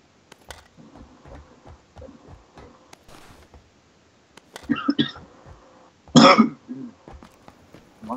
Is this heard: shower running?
no